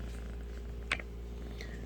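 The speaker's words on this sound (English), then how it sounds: "Oh my god, you're purring." A cat recovering from a stomach impaction purrs softly and steadily up close in a quiet room, with one brief sharper noise partway through.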